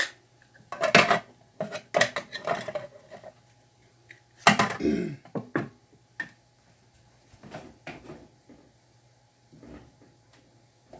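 A plate taken out and handled in a home kitchen while corn meal dumplings cook, with sharp ceramic clinks and clatters in short bursts and isolated knocks against quiet gaps, close and fairly loud.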